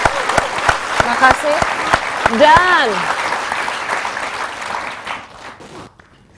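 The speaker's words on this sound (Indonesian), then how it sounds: "Kita boleh berikan tepuk tangan" Studio audience applause on a televised talk show, a loud crowd of clapping that swells and then fades out, with a speaking voice heard over the first seconds.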